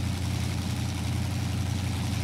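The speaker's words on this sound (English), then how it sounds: "And this truck's loud." A loud, steady Chevy K10 truck engine in Spintires MudRunner drones continuously, a heavy low rumble with no breaks or voices.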